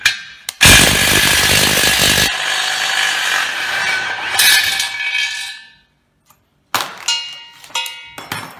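An Einhell cordless impact driver rated at 180 Nm unscrews a screw with a loud, harsh rattling hammer burst, then a longer whirring run that tapers off, a short pause, and a final brief rattling burst.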